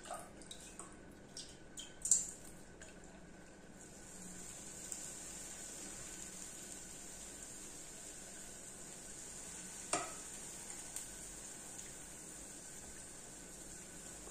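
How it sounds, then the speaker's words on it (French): Cooled syrup poured over a hot tray of freshly baked kalb el louz gives a faint, steady sizzling hiss, broken by a couple of soft clinks. "je vais l'arroser de sirop qui a bien refroidi"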